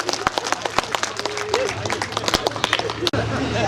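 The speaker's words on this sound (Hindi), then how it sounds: "जोरदार तालियां बजाइए" Scattered audience clapping at a comedy poetry event, with distinct sharp claps over crowd chatter and background voices.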